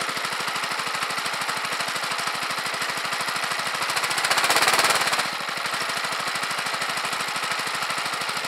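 A small engine drives an induction motor generator with a steady rapid chugging, then is throttled up around the middle so it roars louder and faster before settling back to its earlier pace.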